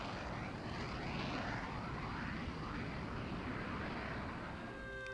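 A high-performance military jet aircraft flying, a loud, steady broadband engine roar filling the whole clip, with no talking.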